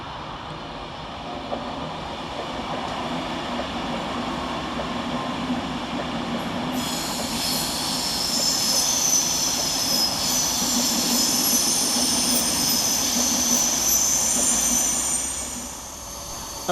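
Avanti West Coast Class 390 Pendolino 390121 passes through Cheadle Hulme station, a rising rumble of rail wheels joined midway by bright squealing and hiss, loud and close before easing away at the end.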